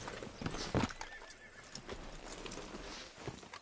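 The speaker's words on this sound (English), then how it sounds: "Hitch your horse up here" A horse in Red Dead Redemption 2 clip-clops over ground at close range and lets out a whinny, the hooves striking in uneven bursts against light ambient game sound.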